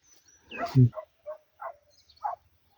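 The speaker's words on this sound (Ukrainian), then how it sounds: "Десь працює собака." An Estonian hound trailing a hare in the field gives a short run of yelping barks, one loud cry followed by three spaced, quieter yelps at moderate distance, otherwise quiet.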